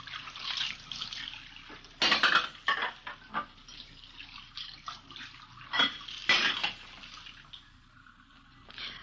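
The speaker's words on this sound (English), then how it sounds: "We found her in the kitchen washing dishes." Dishes being washed at a kitchen sink in an old radio police drama, with running water, clinking plates and cutlery, and a few louder clattering knocks, close and busy, without talk.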